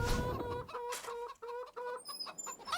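Chickens and a rooster clucking in the farming video game Farming Simulator 25, a series of close, short clucks in uneven bursts, alone with no talk.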